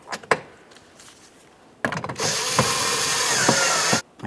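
A ratchet clicks on a bolt on a 2007-2017 Jeep Patriot during door handle work, starting with a few sparse clicks and then running as a brisk, close run of ratcheting for about two seconds before stopping.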